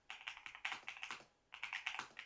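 Quick clacking keystrokes on an aluminium alloy mechanical keyboard, close and crisp, arriving in bursts of rapid taps with a short pause partway through.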